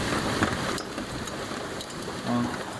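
Floodwater mixed with hail rushing and splashing across a road, a dense continuous wash with scattered sharper splashes and a brief low rumble near the end.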